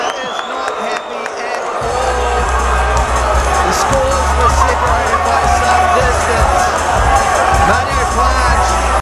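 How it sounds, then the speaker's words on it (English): A boxing match crowd erupts in applause and cheering after a bout is called a draw, a loud dense roar of clapping, shouts and babble that swells after a brief quieter start and holds throughout. "a round of applause for both fighters"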